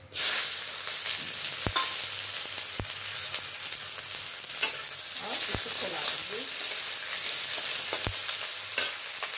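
Chopped onion fries in hot oil with cumin seeds, bay leaf and dried red chillies, giving a steady close sizzle broken by a few sharp clicks of a stirring spoon against the pan.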